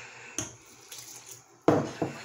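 Water is poured into a bowl of vegan mochi donut batter in a home kitchen, with a few sharp clinks of utensils against the bowl and brief splashy pours between quieter moments.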